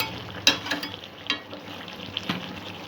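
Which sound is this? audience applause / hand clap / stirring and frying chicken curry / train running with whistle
stirring and frying chicken curry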